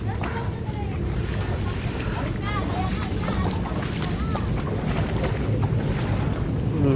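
A boat motor drones steadily under strong wind buffeting and splashing water, with voices talking over the noise.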